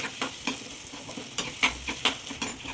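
A spiced stuffing mixture with coriander powder being stirred in a pan with a spoon, giving a steady series of light, distinct scraping and tapping strokes over a faint sizzle, heard close and fairly quiet.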